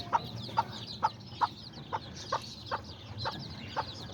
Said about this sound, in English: this is the mom chicken that just hatched out her babies